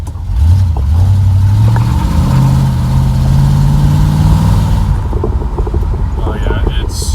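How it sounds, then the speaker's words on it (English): A car engine with an exhaust leak runs close by, a low throbbing rumble with a rising tone that settles back to a rougher idle, alongside wind noise and no clear speech. "It's still got an exhaust leak."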